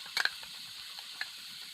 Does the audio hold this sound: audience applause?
no